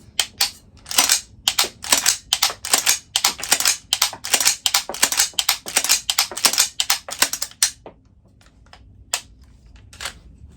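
A pistol is dry fired repeatedly on .22 snap caps made of TPU, with sharp close metallic clicks of the hammer and slide in a quick irregular string, then a few sparse clicks after a pause.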